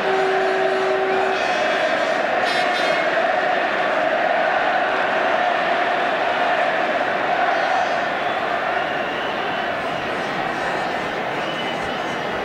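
Large football crowd at a 1981 England versus Spain friendly, a broad continuous roar of applause and cheering from the stands, sustained and fairly loud, with a commentator's voice over it.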